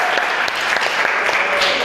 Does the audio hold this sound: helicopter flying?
no